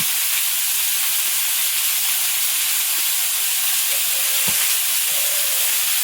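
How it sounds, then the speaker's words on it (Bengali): Potatoes and eggplant frying in oil in a wok: a loud, unbroken bright hiss of sizzling with a few faint knocks underneath, steady throughout. "আলু বেগুনটা একটু ভেজে নিলাম"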